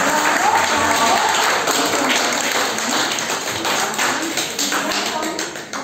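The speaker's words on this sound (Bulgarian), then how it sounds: "Пляскаме." Children at an end-of-school-year event clap together in a dense, steady burst of applause lasting several seconds, with voices mixed in underneath.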